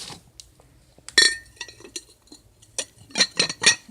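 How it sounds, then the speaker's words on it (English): Lid of a tobacco jar, likely glass or ceramic, handled and set down: a scattered series of sharp clinks and small knocks, close and fairly loud between quiet gaps, with no talking. "It's got the lid though. Is it a tobacco jar?"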